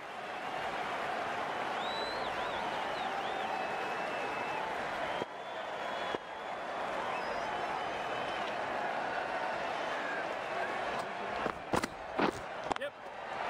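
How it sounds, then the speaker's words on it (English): A cricket stadium crowd during an IPL match between KKR and DC roars in a steady, dense wash of cheering throughout, with a commentator's voice over it and a few sharp claps or bangs near the end. "The crowd are loving this."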